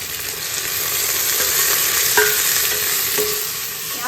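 Oil being stirred in a pressure cooker on a low flame while making chicken heart biryani, with a steady close frying sizzle, a few metal scrapes and clinks of the spoon, and no talking.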